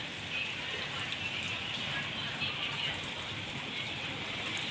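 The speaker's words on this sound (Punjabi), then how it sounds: "ਕਿੰਨਾ ਜ਼ਿਆਦਾ ਮੀਂਹ ਪੈ ਰਿਹਾ ਤੁਸੀਂ ਦੇਖ ਹੀ ਸਕਦੇ ਆ" Dense, steady downpour of heavy rain following hail in Ramgarh, hissing and pattering on surfaces, constant and enveloping with no voices.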